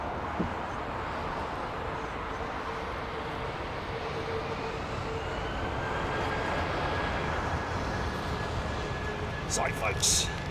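An Airbus A319 departs for Marseille, a steady distant jet engine roar with a faint rising whine, holding at a moderate level throughout.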